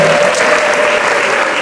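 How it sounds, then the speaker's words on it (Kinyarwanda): Applause fills a church gathering, a dense steady clapping from many hands, loud and close, with a faint voice beneath it. "tugikomera amashyi"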